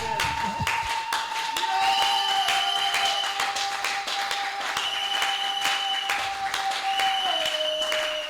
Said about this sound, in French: Est-ce qu'on peut acclamer pour notre Dieu?